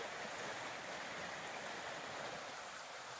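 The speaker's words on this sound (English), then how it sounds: "you can see the creek right there." A creek flows beside a hiking trail in Virginia, a steady broadband rush of water that stays even and continuous throughout, with no voices.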